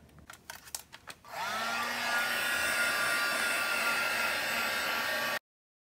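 After a few quick clicks, a heat tool or dryer switches on and blows a steady, close whooshing roar for about four seconds while drying clear gesso on a tote, then cuts off abruptly.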